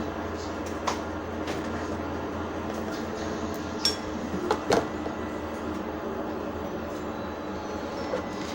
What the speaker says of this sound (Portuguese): Não repare o barulho da máquina de lavar, tá?